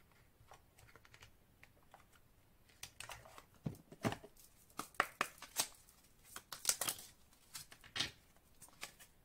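Cards being shuffled and drawn from a small intuition oracle deck during a tarot reading, a quiet run of crisp papery slaps and flicks in uneven bursts, close by and alone without any talking.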